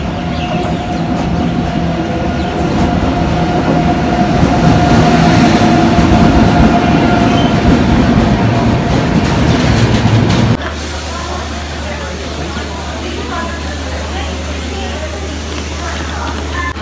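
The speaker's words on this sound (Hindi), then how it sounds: "चंडीगढ़ टू दिल्ली एंड अभी ट्रेन का वेट कर रहे हैं शताब्दी" Shatabdi Express train at a station on the Chandigarh to Delhi route, a loud steady rumble and rush of rail noise that drops to a lower, even drone partway through.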